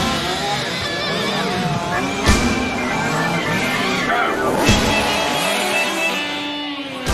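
A 1/5 scale radio-controlled race car running on unleaded fuel buzzes loudly with a high engine whine and wavering tire squeal. Two sharp bursts cut through it, and a murmur of bystanders sits faintly underneath.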